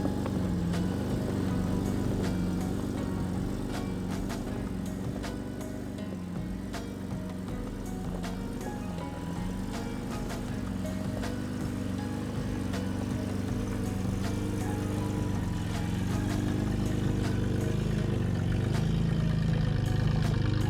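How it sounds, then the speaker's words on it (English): A truck with a dual transfer case crawls in first gear double low, giving a steady, low mechanical engine drone with faint gear whine and small surges in pitch. It plays quietly throughout, with no voice over it. "I'm gonna put it in first gear, double low, and let the truck do all the work."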